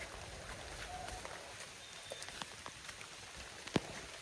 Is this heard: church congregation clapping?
no